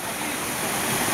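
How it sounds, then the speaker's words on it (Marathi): The Datade waterfall roars as a steady, loud, dense rush of falling water close by, with no voices over it. "दाताडे धबधबा यावंच लागते."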